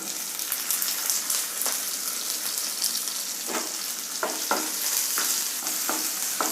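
Chopped garlic, green chilli and onion fry in hot oil in a pan, giving a steady close crackling sizzle with intermittent scraping stir strokes.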